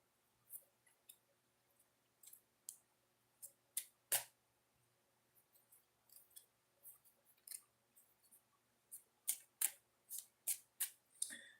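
Close, crisp clicks and flicks of tarot cards being shuffled, coming in irregular bursts with short pauses, quiet background.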